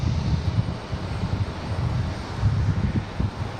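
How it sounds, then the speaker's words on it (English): Pilatus PC-12 single-engine turboprop arriving at Raleigh-Durham airport, a low throbbing propeller drone with a pulsing, uneven rumble at middling distance, mixed with some wind buffeting. "Looks like we had a really cool Pilatus PC-12 arrive."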